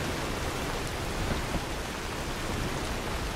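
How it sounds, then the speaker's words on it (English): Steady rain pours down in heavily modded Skyrim, a dense, even hiss of falling water with no breaks and no voices. "Can't shut off the rain."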